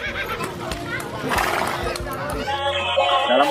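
A horse whinnies amid busy background chatter and children's voices, the neigh rising and wavering over the mixed noise.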